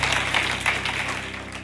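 Congregation clapping in a church, a steady wash of many hands that holds evenly through the whole moment over a low hum, with no clear voices.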